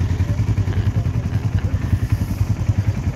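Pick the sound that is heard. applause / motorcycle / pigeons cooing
motorcycle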